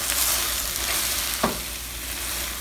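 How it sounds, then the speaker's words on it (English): Onions caramelizing in a pan for French onion soup, a dense continuous sizzle and crackle up close with one brief scrape of a wooden spoon midway, no voices. "My onions have been caramelizing for about 35 minutes now"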